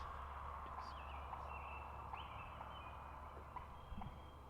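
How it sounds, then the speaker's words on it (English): Wild turkey hens clucking outdoors during a spring turkey hunt in Wisconsin, faint scattered calls over a steady low background hum, distant and quiet with no talking. "Those are turkeys clucking. Those are hens."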